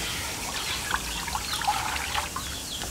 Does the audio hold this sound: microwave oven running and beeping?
no